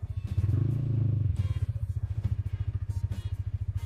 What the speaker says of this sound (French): J'ai démarré la moto, elle est au point mort